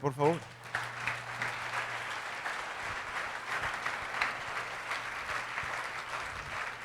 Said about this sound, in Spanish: Dale otro aplauso a nuestro Rey,